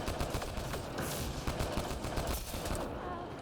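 A turret in Mass Effect Andromeda firing rapid bursts, dense machine-gun-like rattling that runs continuously and loudly through the moment.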